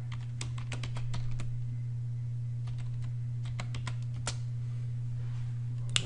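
Fingers tap a password on a computer keyboard in quick irregular clicks over a steady low electrical hum, close by and with no voices.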